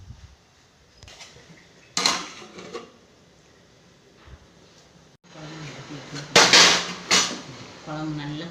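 A lid set down on a pot of simmering vegetable curry in a home kitchen, with a few sharp metallic clanks and clatters of cookware, near and fairly loud against a quiet background.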